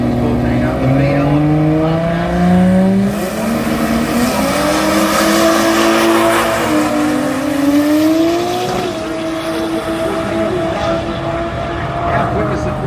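Holden VL and Ford Cortina drag cars race at the Garrett Brisbane Jamboree, engines revving and roaring loudly with rising pitch sweeps through the run, as a commentator talks over the continuous engine noise.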